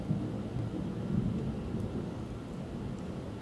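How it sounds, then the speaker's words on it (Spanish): Steady rumble of a thunderstorm with rain and gusting wind in a life-simulation video game, a continuous low roar without distinct cracks. "Mira qué tormenta."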